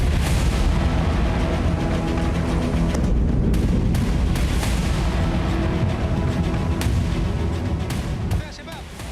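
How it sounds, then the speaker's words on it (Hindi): Heavy blasts from an Israeli drone strike on the defence ministry in Damascus, Syria, pound continuously as loud, dense booming and rumbling with crackling bursts, easing slightly near the end. "ड्रोन के जरिए किए गए इस हमले से रक्षा मंत्रालय में तेज विस्फोट हुए"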